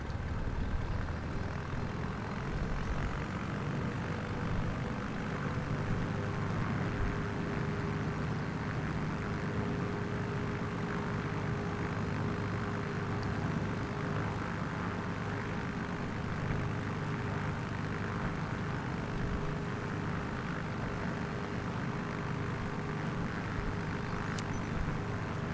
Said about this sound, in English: Well, we're taking off